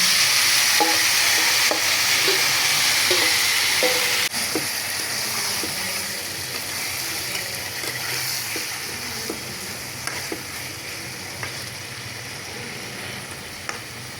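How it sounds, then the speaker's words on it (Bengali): Marinated pabda fish fries in hot oil in a frying pan, a loud, continuous sizzle with scattered light scraping and tapping, no voices. "তেল গরম হয়ে গেছে গিয়ারি। এখন আমি মাখানো মাছটা দিয়া দিলাম।"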